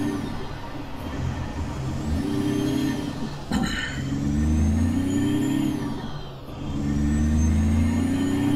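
Autocar DC classic heavy-haul truck in American Truck Simulator, its engine droning steadily and rising in pitch as it revs and accelerates, with a brief air-brake hiss partway through and no talking.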